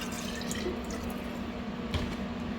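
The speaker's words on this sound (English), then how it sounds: "I'm gonna go put a little water in the jar and shake it through both of them." Water sloshing and shaken inside a glass jar that held ragu pasta sauce, rinsing out the leftover sauce while making crockpot lasagna; a steady close liquid wash with a few splashy accents, no talking.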